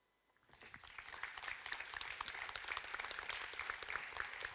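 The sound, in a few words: audience round of applause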